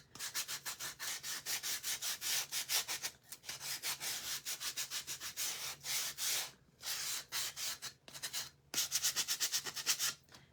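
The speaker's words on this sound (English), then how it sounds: "I just want to kind of use my sanding tool and kind of go over it just a little bit." A hand sanding tool rubs back and forth over stained wood from a craft wood kit, quick rhythmic strokes in bursts with brief pauses, close and fairly quiet, no talk.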